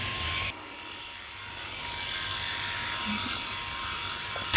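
A Philips i9000 Prestige electric shaver buzzes steadily against a scalp during a head shave, a continuous close whirring hum with slight shifts as it moves, while someone talks over it.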